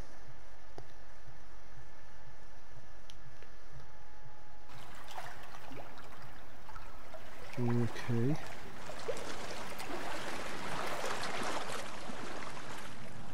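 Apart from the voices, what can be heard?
flowing stream water in The Forest video game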